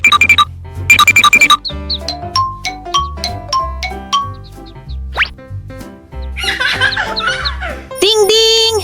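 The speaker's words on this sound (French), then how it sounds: "Le réveil sonne très fort." Cartoon alarm clock ringing loudly in bright, repeated chiming bursts, mixed with giggling children's voices and playful musical tones.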